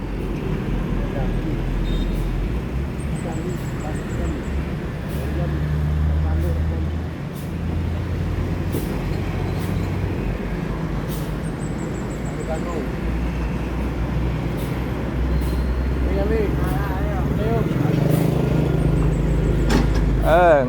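A double-decker Aerobus Skylander pulls into a bus terminal. Its low engine rumble is joined by sharp air-brake hisses, with other traffic and voices around it.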